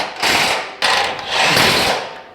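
Impact gun tightening a nut on a Nissan Titan truck's front differential: close, loud bursts of rattling hammering in two runs with a brief gap between them.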